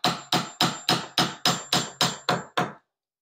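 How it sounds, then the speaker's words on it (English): A small 9-ounce hammer taps on a parlor cornice during restoration to pop the glue free: ten crisp, evenly spaced strikes close to the microphone, with no other sound, then silence. "I'm using a little tiny 9-ounce hammer because I'm not trying to really kill anything here."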